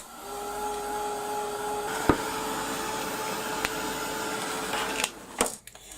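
A handheld dryer blows over a mixed media art piece, a steady close whirring hum with a few sharp clicks and knocks before it shuts off near the end.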